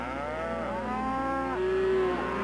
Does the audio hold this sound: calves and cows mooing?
yes